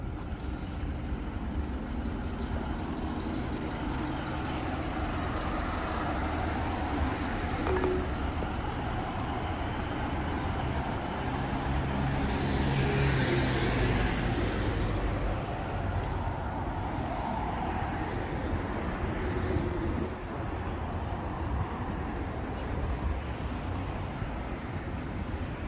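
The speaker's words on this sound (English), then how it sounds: "Oh, there's traffic." Street traffic in Shiba, Tokyo, hums steadily as engines idle and pass at a distance, forming a continuous low roadway drone for the whole stretch.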